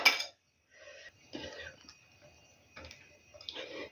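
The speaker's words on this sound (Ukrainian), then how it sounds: "то дуже стука і ложка по тарільці" A few scattered clinks and taps of a metal spoon against a plate while fish is mixed with sauce, quiet and irregular, with pauses between the knocks.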